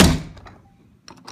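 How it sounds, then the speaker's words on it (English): A door is shut and locked during a tornado warning: one loud close thunk, then a pause, then a few small metallic clicks of the lock. "Locking all the doors just in case."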